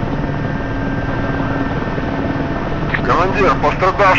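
Mi-8MTV2 helicopter engine and rotor running steadily in the DCS game, a constant droning hum with faint tonal whine, with a voice speaking over the last second or so.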